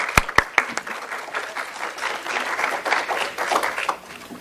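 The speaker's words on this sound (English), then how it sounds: "So if we could have a big round of applause for Denise." An audience gives a round of applause after a speaker introduction at an alchemy-themed talk, opening with a few loud, distinct claps that swell into steady, dense clapping from many hands, fairly close and without talk.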